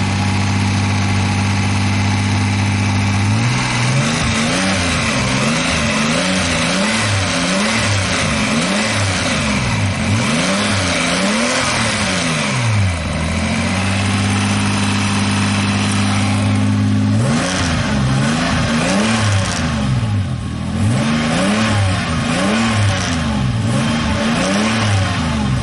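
A car engine running with the clutch out and a worn transmission, a loud steady idle with repeated rising and falling revs in a cyclic pattern, pausing briefly to a flat idle before revving again, close and with no talk.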